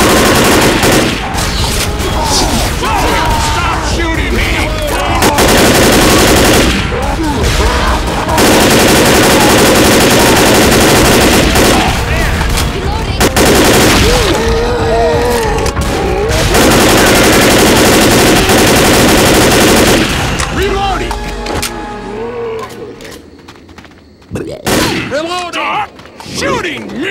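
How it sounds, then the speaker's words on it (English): Dense, loud video-game gunfire in Left 4 Dead, sustained machine-gun bursts and rapid shots with brief pauses, thinning out near the end. "Stop shooting me!"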